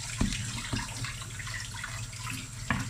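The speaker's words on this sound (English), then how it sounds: "She's just going to rinse it off." Tap water running to rinse something off in a kitchen while making cupcakes, a steady close splash and trickle with a few small knocks, moderately faint.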